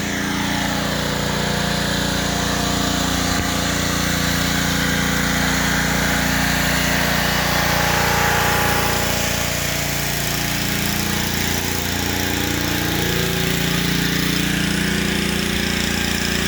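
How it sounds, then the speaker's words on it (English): A pressure washer runs steadily and loudly while cleaning a 1969 Pontiac LeMans that sat off the road for about 20 years, its continuous motor drone and spray hiss filling the whole stretch without pause. "we have some loud background noise with the pressure washer"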